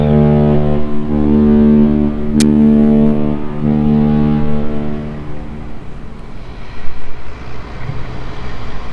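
A cruise ship's deep, loud horn blares in long sustained blasts with a brief break while departing port, then fades into rumbling engine and water noise.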